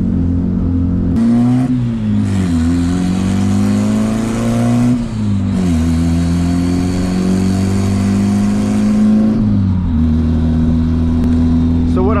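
A turbocharged Honda D16 car running 16 psi with Vitara pistons drives loudly from inside, its engine note rising and dropping repeatedly with gear changes, and a voice is faintly present.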